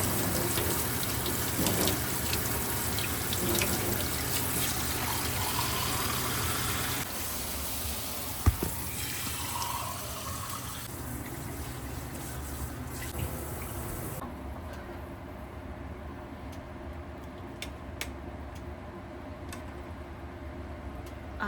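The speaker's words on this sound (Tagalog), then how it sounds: "Water." Water runs into a pot while Pancit bihon is cooked, a continuous splashing, hissing flow with scattered small clicks and taps, softening partway through and continuing more quietly to the end.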